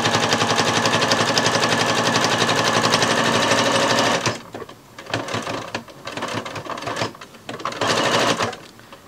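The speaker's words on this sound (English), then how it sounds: "I'm going to then stitch around one more time to capture the other edge" A sewing machine stitches around the edge of a rice-filled heating pack cover. There is a fast, loud, steady run of needle strokes, then shorter stop-start bursts with pauses between them.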